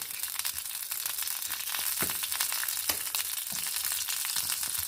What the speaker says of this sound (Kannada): ಇದಕ್ಕೆ ತುಪ್ಪದ ಒಗ್ಗರಣೆ ಲಾಯ್ಕು ಫ್ರೆಂಡ್ಸ್ ಸಾಸಿವೆ ಒಂಚೂರು ಜೀರಿಗೆ